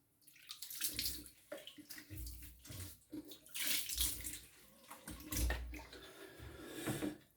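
Water splashed over the face to rinse off soap after a wet shave, a series of soft, close splashes and trickles in irregular bursts, fairly quiet and with no talking.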